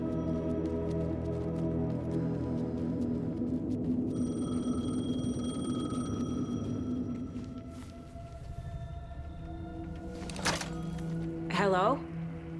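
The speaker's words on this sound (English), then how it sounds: "The payphone was ringing." A payphone rings in the video game Alan Wake 2, its bell tones rising near the end over a low droning musical bed and ambient hum.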